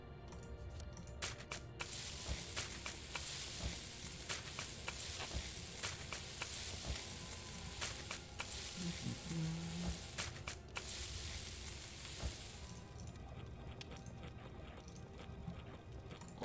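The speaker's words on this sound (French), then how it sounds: "on va aller cuisiner les poissons" Fish frying in a cooking scene from the survival game Home Behind: a steady, dense sizzle that runs the whole length without pause, with no talk over it.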